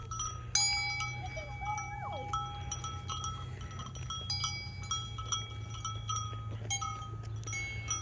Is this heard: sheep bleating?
yes